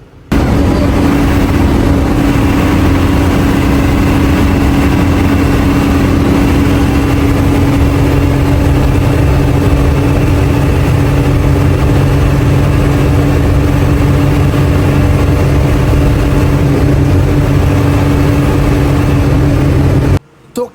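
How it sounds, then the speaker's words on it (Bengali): Hanif coach bus engine running at high speed on the road, a loud constant low rumble with steady drone and road roar filling the whole stretch, no talk over it. "এখন কিছুক্ষণ তোমরা ইঞ্জিনের রিয়েল আওয়াজটা একটু শোনো রিয়েল স্পিডের সাথে"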